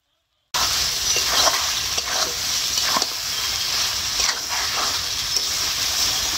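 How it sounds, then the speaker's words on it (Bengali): Chicken being stirred with a mustard paste, chili, turmeric and sugar spice mix in a pan, giving a steady close hiss broken by a few soft scraping strokes, with no voices. "মশলার সাথে মাংসটা খুব ভালো করে মিশিয়ে নেবো।"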